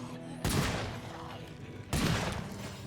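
The Golden Vulture gun in State of Decay 2 fires two loud, separate shots about a second and a half apart, each with a booming report that decays slowly.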